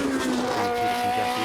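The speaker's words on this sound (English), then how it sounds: "Wonderful soundtrack from the wailing 3-litre Cobra DFV in Andrew Beaumont's Lotus" A Lotus 76 race car powered by a 3-litre Cosworth DFV engine wails at high revs, its sustained tone shifting in pitch as it climbs hard on a hillclimb run, loud and close with no talk.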